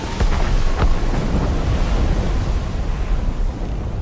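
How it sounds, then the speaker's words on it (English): Distant cannon fire rolling through fog in Assassin's Creed Rogue, a few deep muffled booms rumbling low and heavy over a continuous sea-like roar, with no talking. "Cannon fire. Deep within the fog."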